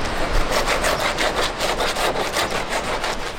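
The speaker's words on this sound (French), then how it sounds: "On est en train de poncer la barque pour la peindre ensuite." A wooden fishing rowboat in a coastal fishing village is sanded by hand before painting, giving a steady, close, rasping scrape in repeated even strokes with no talk.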